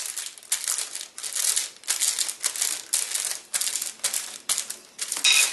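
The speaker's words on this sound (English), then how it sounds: "I'm going to take my fried plantain, put it on there. I'm going to smash it flat into a disc." Fried plantain is smashed flat into a disc on wax paper, giving a series of close crinkling, crushing bursts in an irregular rhythm with no talking.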